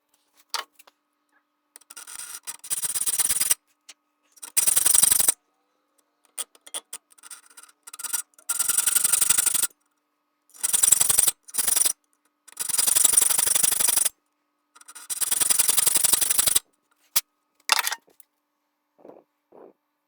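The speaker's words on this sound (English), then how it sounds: "I'm going to cut this with a hacksaw" A hacksaw cutting through a TH400 transmission case, sped up: short, choppy bursts of harsh rasping strokes separated by abrupt silences, ending with a few faint taps.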